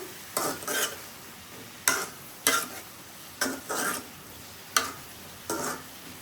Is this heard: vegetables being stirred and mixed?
yes